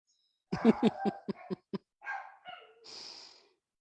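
Dogs barking in a quick run of close, sharp barks that taper off, followed by a few softer huffs and a breathy whine.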